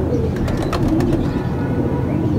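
An old risala-type pigeon coos in low, soft repeated calls close by, over a steady background rumble.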